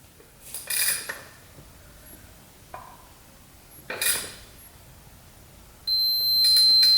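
An electronic beeper gauge on a rare 2-stroke triple motorcycle emits a high, steady tone that comes on abruptly near the end and holds, after a few sharp metallic clinks, as the engine is turned over.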